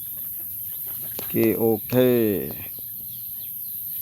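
Chickens at a farm coop give a few short, close clucks in quick succession over low background noise, with a brief spoken word.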